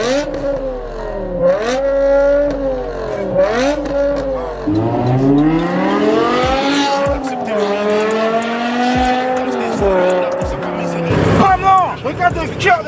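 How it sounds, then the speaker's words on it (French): A BMW M5 with a V10 engine revving hard, its high-pitched wail rising and falling through repeated sharp throttle blips, loud and close, with brief tire squeal near the end. "La légendaire BMW M5 V10."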